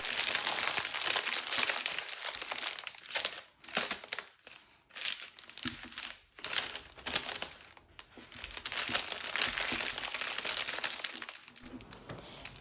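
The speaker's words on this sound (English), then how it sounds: "I fold a thinner sheet of paper in triangles like that. I scrunch it up" Thin wrapping paper being scrunched up by hand while wrapping a small Korean-style flower bouquet: loud, close, continuous crinkling that pauses into short bursts in the middle, then resumes steadily.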